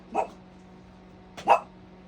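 A dog barks twice in the background, two short separate barks about a second apart, moderately loud over a steady low hum.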